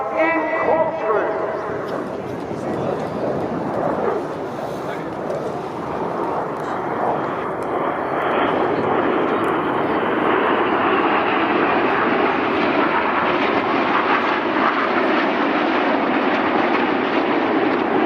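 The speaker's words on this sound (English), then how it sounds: "Hawk is actually 50 years old this year, an extremely agile and capable aeroplane" A BAE Hawk jet of the Red Arrows roars through an air display at RIAT 2024, a loud, continuous, broad jet rumble sustained for the whole stretch, with a commentator's voice faintly audible under it.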